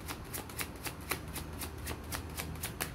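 Tarot cards being shuffled, a close, quiet run of evenly spaced crisp riffling snaps that repeat steadily for three seconds without speech.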